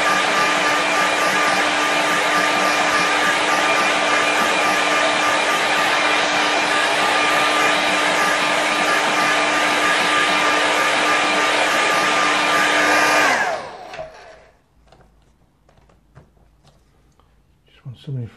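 A hair dryer blows steadily and loudly at close range, drying fresh paint on a winter landscape painting, then cuts off abruptly, leaving quiet room sound and a few faint handling noises.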